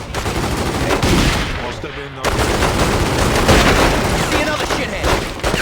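Loud, dense gunfire from The Godfather 2 video game, rapid bursts and shots layered together almost continuously, with a brief dip before the firing resumes at full intensity.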